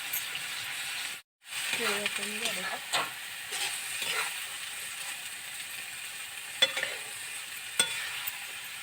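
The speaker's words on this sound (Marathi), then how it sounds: "आता मसालाही छान परतून घेते" Masala and cooked peanuts are sautéed in a pan, with steady sizzling and frequent scraping and stirring clatter close by. One short break in the sound comes early, and a few sharper clicks follow later.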